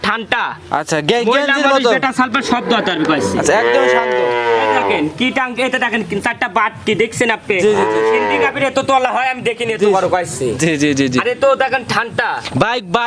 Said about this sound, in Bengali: অরিজিনাল একটা সিন্ধি জাতের গাভী